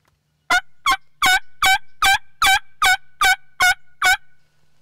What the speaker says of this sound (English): From way back in the corner of our property, we heard a gobble.